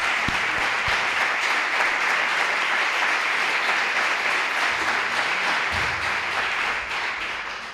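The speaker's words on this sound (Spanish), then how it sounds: "Y el aplauso de toda la sala para vosotras." Sustained applause from an audience filling a conference hall at a panel on research equity, a dense steady wash of clapping that holds throughout and tapers slightly at the end.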